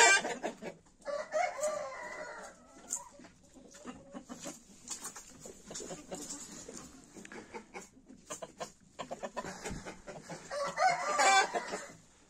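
Roosters crow loudly a couple of times, with clucking and scattered hen noises in between, close by, in a cold snowy season.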